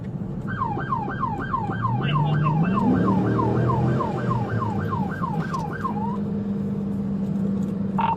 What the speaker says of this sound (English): Deputy Meeks activated his lights and sirens to initiate a traffic stop